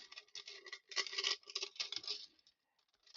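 Shrink wrap plastic crinkling and rustling in busy bursts as a tumbler cup is slipped inside it, close and fairly quiet, easing off near the end.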